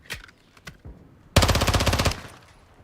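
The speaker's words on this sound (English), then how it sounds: "Changing mag." Machine gun fire in Call of Duty Modern Warfare II multiplayer: a few scattered shots, then one loud, close, rapid sustained burst of automatic fire lasting under a second before it stops.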